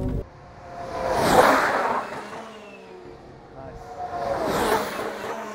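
Two Formula 1 Ferraris race past a trackside spot at the Spanish circuit, each rising to a loud whooshing engine roar and fading away, about three seconds apart, with a brief spoken remark over the first pass.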